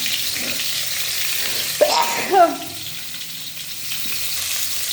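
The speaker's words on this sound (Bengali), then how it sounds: "তাই পটলটা ভেজে নিই" Pointed gourd (potol) frying in oil in a pan, a steady soft sizzle with a brief louder flare of crackling and stirring midway before settling back to a gentle hiss.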